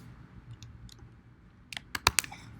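Keys on a computer keyboard are pressed in a short burst: a few faint taps, then a quick flurry of sharper, close clicks near the end. The room is otherwise quiet.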